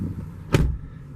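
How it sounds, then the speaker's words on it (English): A door on a 2016 Ford F-250 Lariat Super Duty pickup shuts with a single short thump, heard close over a quiet cabin background. "Go ahead and close the door."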